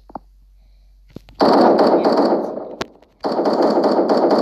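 Automatic gunfire in the 1v1.lol shooter game: two loud rapid-fire bursts close up, separated by a short pause, with a few single clicks before them.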